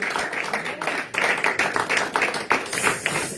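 A church congregation claps in a steady rhythm during worship, bursts of many hands close and fairly loud over a few seconds, with no singing or talk on top.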